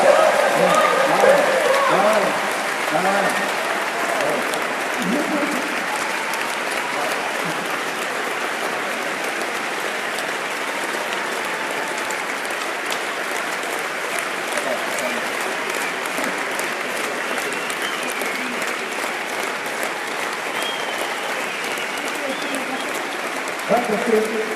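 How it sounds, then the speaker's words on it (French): A long round of applause rises from the audience at a Decathlon innovation awards evening for two presenters, loud at first with some voices, then settling into a steady, sustained clatter of clapping. "je voudrais un tonnerre d'applaudissements pour Julien et Ahmed qui ont mis le show."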